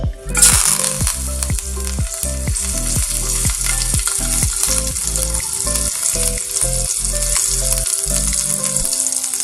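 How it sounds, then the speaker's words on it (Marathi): Cumin, mustard seeds, green chilli and curry leaves sizzling in hot oil, a loud continuous crackling fry with rhythmic periodic pulses, close up, with no talking. "आता आपण याच्यामध्ये जिरे मोहरी आणि मिरची आणि कढीपत्ता टाकायचे."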